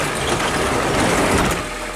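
A Honda CR-V engine runs steadily after a blown-gasket repair, a continuous broadband rumble with no break, close and fairly loud, without talk.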